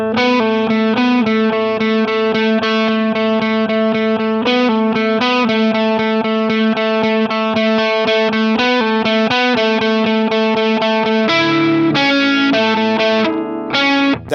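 A slowed electric guitar riff, played with distortion and the delay switched off. Steady, sustained picked notes ring out loud and alone, with a brief shift in the pattern near the end.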